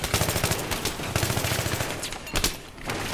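Bursts of rapid automatic gunfire from Battlefield 3 gameplay, loud and dense, coming in two long volleys with a brief gap between them, no voices over them.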